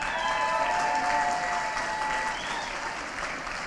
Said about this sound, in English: Sean Quinlan in particular deserves a huge round of applause.